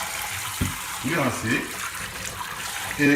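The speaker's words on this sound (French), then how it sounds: "vous les rincez" Soaked almonds rinsed under a running kitchen tap, with a steady splash of water throughout and someone speaking over it.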